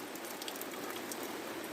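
Steady rain patters on a camper awning at a campsite, a dense, even hiss of drops at low level with no talk over it.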